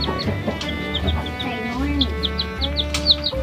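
A cluster of chicks cheeps nearby in rapid, high, repeated peeps while older chickens cluck at a lower pitch underneath. A voice talks intermittently over the birds.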